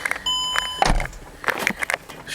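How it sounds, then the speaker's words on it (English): A Mercedes-Benz door-open warning chime beeps in a steady high tone for about half a second, then a solid thud cuts it off, followed by soft handling clicks and rustles inside the car. "Shut the door so we remove the beeping."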